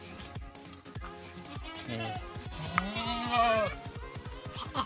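Goats on a farm in Phanom Dong Rak, Surin, give wavering bleats in the middle of the clip, over steady rhythmic clicking and faint background talk.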